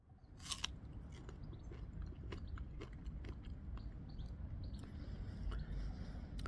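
Someone bites into and chews a firm, crunchy Ice Peach fruit with pear-like flesh; quiet, close crisp bites and chewing crunches repeat irregularly over soft background noise.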